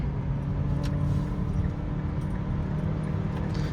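Mazda car cruising onto a freeway in third gear, its engine a steady low drone with road rumble and no clear gear change, constant and close throughout.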